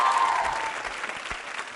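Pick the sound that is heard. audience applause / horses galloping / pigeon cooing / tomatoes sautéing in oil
audience applause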